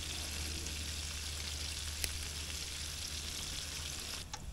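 Sage leaves frying in brown butter over low heat, a steady soft crackling sizzle, close and even, with a faint tap near the middle and another toward the end.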